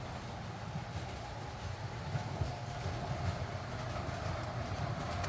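An RS3 locomotive train rolls steadily past with a low, continuous rumble and faint rail noise, moderately distant and without any voices.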